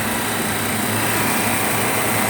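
An air conditioner compressor runs steadily with a vibrating drone and broadband hiss, a constant close mechanical noise with no pauses.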